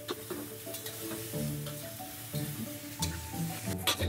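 Ingredients being dry stir-fried in a wok for a braised beef brisket dish, a close sizzle with scraping and clattering from the utensil against the wok and a low background hum.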